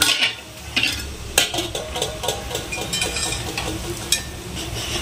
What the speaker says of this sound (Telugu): ఇదిగో క్యారెట్ ఫ్రై చేస్తున్నాను